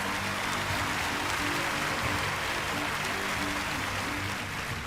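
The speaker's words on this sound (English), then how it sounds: "Round of applause." Steady applause from a studio audience at a magic show, a dense wash of clapping that holds evenly throughout without pause.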